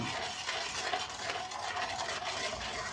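Steady scraping and swishing of a utensil stirring thick chocolate sauce for a chocolate crackers dessert, continuous and close with no talking.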